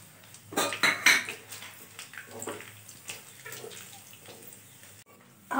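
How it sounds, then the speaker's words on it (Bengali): Whole spices are tossed into oil in a wok for tempering, giving a few sharp metallic clinks and rattles up front followed by a softer crackling sizzle that fades, then another clatter at the end. "এবার আমি এই গোটা মশলাগুলো দিয়ে দেবো ফোড়নের জন্য।"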